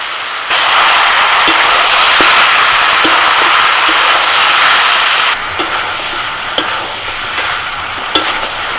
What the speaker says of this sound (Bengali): এবার শুধু নাড়াচাড়া করতে হবে